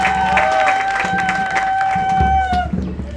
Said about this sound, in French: Beaucoup d'applaudissements pour votre fils, Émile Tarfacile.